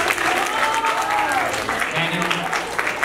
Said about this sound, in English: Give Marquion a round of applause.